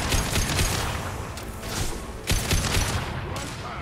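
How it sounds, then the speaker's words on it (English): Shotgun blasts in the Mass Effect 2 video game during a firefight, dense repeated bursts of gunfire close and loud throughout, with a faint voice in the mix. "Oh, shotgun."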